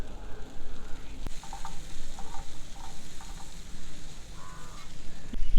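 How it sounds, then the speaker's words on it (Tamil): Shallots and tomato sauté in a pan for a tawa crab fry, a steady low sizzle with intermittent scraping and clinking as a spatula stirs them, close and fairly quiet with no talk. "நல்லா வதங்குற வரைக்கும் கிண்டிக்கிட்டே இருக்கணும்"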